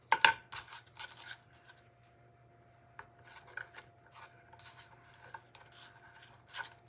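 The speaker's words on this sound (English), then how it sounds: "I'm just going to use my scissors." Scissors cutting through vinyl for a pot holder craft, with a few crisp snips near the start and then scattered, quieter cutting and rustling sounds, close by with no talking.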